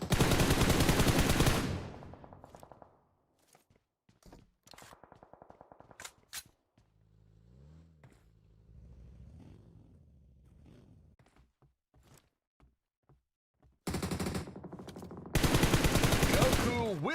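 Video game scrim gunfire: a loud rapid burst at the start, scattered sparse shots and clicks through a quieter middle with other game sounds, then heavy sustained firing returning near the end.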